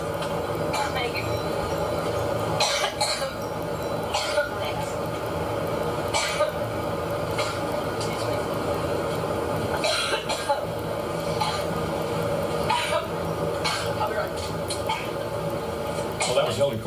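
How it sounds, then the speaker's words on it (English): A woman suffers a coughing fit aboard her campaign plane during a press conference, with repeated harsh coughs in bursts over a steady cabin engine drone and murmuring voices. "interrupted by a coughing fit, the second coughing fit that she's had today"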